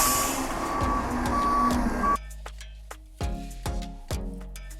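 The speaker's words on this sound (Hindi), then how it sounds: "वो देखो वो आ गई ना गार्बेज वाली गाड़ी" A garbage truck on collection day on a Canadian residential street: an idling diesel rumble with a steady reversing beep at first, then sharp hissing air-brake bursts and clanks as it pulls in nearby.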